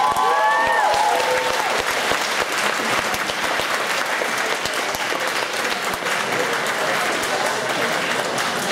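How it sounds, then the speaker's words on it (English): Steady, loud applause from an audience at a charity auction at Amecon 2012, dense clapping sustained throughout with some voices briefly audible early on. "Round of applause, please."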